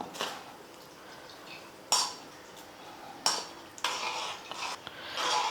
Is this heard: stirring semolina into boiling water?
yes